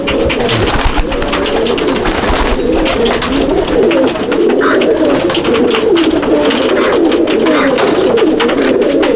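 A loft full of pedigree pigeons of one bloodline keeps up a continuous chorus of soft, rolling coos, loud and near, layered and unbroken throughout with no voices.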